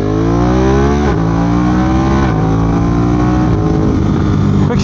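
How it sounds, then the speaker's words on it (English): A 2022 Ducati Monster+ or 2022 Triumph Speed Twin motorcycle engine accelerates hard and close, its rising drone cut by quick upshifts about every second and a quarter, loud and continuous with wind rush. "You hit that quick shifter on auto blip and you just brap."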